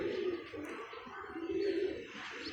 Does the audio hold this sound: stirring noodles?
no